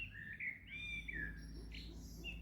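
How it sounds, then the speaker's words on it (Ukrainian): Birds chirp outdoors on a quiet evening, a few bright, fairly close tweets and warbling calls over a soft low background hum. "послухаємо зараз пташок"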